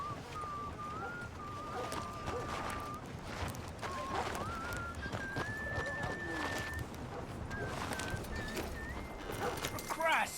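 In Red Dead Redemption 2, a horse neighs and its hooves clip-clop at a quiet level, under a game's background ambience and occasional speech.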